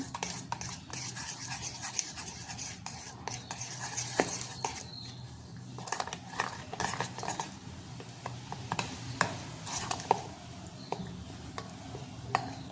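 A spoon stirs a thick batter of gram flour, wheat flour and white sesame for sweet jaggery pudla, making repeated soft scraping and squelching strokes in an irregular rhythm, close by with no talking.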